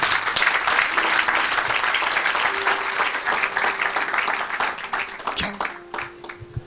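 An audience at a church gathering applauds and cheers steadily, with dense clapping throughout that thins slightly toward the end while a voice speaks over it.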